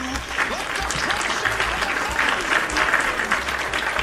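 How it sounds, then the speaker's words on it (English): A recorded applause effect plays on a livestream: a dense, even crowd clapping that holds steady at full level from start to finish. "Let's play some applause."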